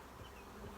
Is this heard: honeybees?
yes